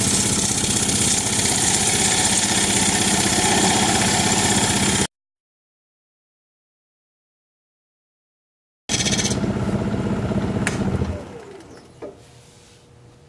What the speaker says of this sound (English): And I'm going to switch to a 3/8 inch bowl gouge